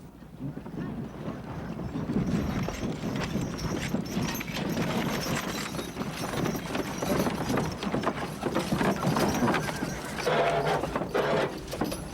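Horses hauling wagons through a stream, with steady clip-clop and splashing hooves, occasional whinnies and rumbling wheels forming a continuous, fairly loud outdoor wash of sound throughout.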